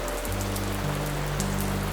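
Steady rain falls on a surface as a continuous, even wash of drops, with a low steady hum underneath and no voices.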